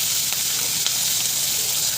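Green chillies and garlic fry in oil with a close, steady, bright sizzle that holds without a break, punctuated by a few faint pops.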